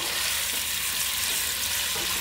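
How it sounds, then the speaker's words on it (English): A tablespoon of garlic fries in a pan with sausage and bacon, giving a loud, steady, close sizzle with no talk. "I'm going to put this tablespoon of garlic in here. And I'm just going to let that get fragrant with the sausage and the bacon."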